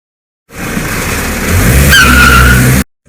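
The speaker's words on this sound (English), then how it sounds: "That's a car." A car roars in loud and close with a rising engine and a sharp tire squeal near the end, cutting off abruptly after about two seconds.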